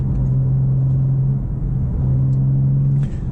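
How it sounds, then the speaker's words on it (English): A 2023 BMW M4 CSL sports car engine gives a deep, steady rumble with a strong low hum, nearly constant throughout, close and loud, with no voices. "now the sound of this car attracts a lot of attention"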